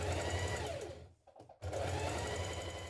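Sewing machine stitching a 1.6 centimetre crotch seam on trousers, a close, steady whirring run that stops briefly in the middle and then resumes.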